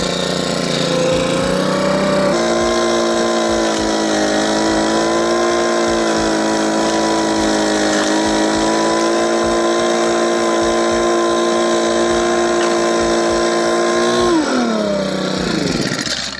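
A Firman FBV70 blower vacuum running, a loud, steady engine drone with a constant whine that holds for most of the clip, then winds down near the end, heard up close with no talking.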